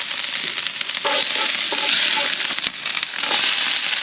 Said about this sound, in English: Basically I was just frying the ginger, the onions, the carrot, and the capsicum all together.